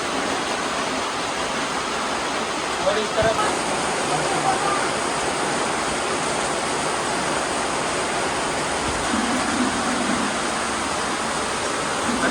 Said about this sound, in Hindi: हाँ लो भाई क्या भयंकर बारिश हो चुकी है